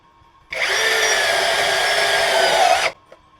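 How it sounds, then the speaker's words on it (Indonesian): A brushless cordless impact drill in drilling mode at speed 2 drives a screw into light steel: one loud, close, steady motor whine lasting about two and a half seconds, rising slightly before stopping abruptly, with quiet surroundings before and after. "Kita akan coba untuk penyekrupan di baja ringan. Saya pakai speed 2 mode drilling."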